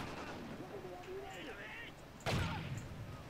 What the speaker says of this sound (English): We're getting shot at from over here.